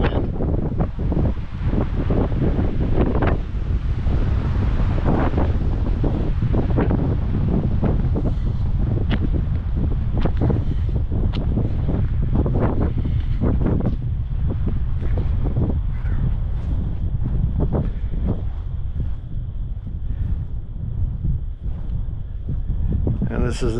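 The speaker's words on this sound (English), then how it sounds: "hard to hear because of the wind" Steady wind buffeting the microphone outdoors at the International Peace Garden on the North Dakota border, a loud continuous rumble with gusts lasting throughout, and a person speaking over it.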